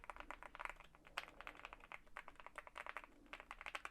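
Rapid clacky keystrokes on a Yunzii AL75 mechanical keyboard, steady typing rhythm with a few louder taps, close up and with no voices.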